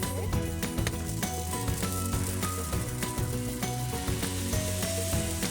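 Fried rice with green onions and tamari sizzles steadily in a pan in a compact RV kitchen, a close, dense frying hiss with faint stirring scrapes and no talking.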